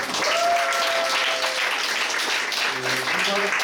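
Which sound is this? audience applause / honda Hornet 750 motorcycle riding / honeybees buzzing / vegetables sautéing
audience applause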